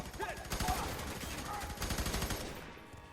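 Rapid automatic gunfire from the shooter game F.E.A.R. 3, a dense continuous rattle of shots over about three seconds with a player's voice faintly mixed in.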